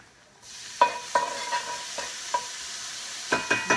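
Garlic sizzles in a cast iron pan, a soft hiss that starts abruptly and runs under a series of crisp spatula scrapes and taps, with no talking.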